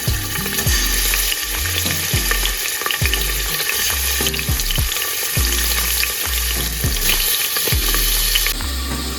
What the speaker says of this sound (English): while I have the beef cooking